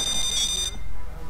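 A phone ringing tone during a Payday 2 heist on the Nightclub map at Death Wish difficulty, a loud steady electronic ring held for about half the moment, then cut off, over game noise.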